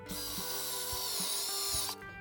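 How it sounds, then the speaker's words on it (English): A power drill fitted with a Forstner bit bores into a guitar body in one steady whine of about two seconds. It is close and fairly quiet, and it stops abruptly near the end. "have one more go with the Forstner bit"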